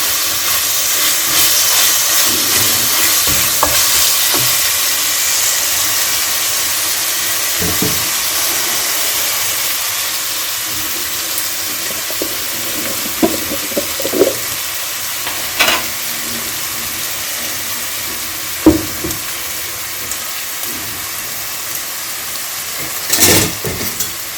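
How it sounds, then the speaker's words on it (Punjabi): Onions fry in a pan for Punjabi-style masaledar tinda sabzi, a loud steady hiss and sizzle throughout, with occasional spoon scrapes and clinks against the pan and no talk. "ਪਿਆਜ਼ ਮੈਂ ਪਾ ਲਏ ਸੀਗੇ ਇਹਨਾਂ ਨੂੰ ਭੁੰਨ ਹੈ"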